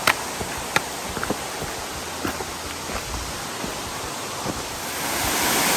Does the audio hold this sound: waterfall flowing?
yes